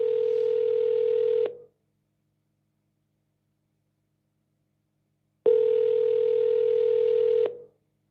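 A landline telephone dial tone sounds as a steady, clean buzzing hum for about a second and a half, cuts to silence for several seconds, then returns for another two-second burst.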